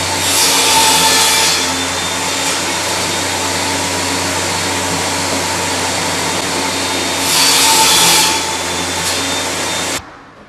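A power saw cutting the ends of Dutch teak wood boards for a DIY floating shelf, a loud continuous whining drone with two swells as the blade bites, stopping abruptly near the end.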